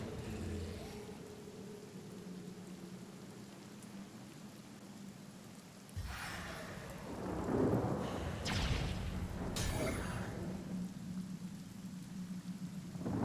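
Steady rain hisses in the Divinity: Original Sin video game, then a deep thunder rumble rolls in midway and swells loudly before settling back into continuous rainfall.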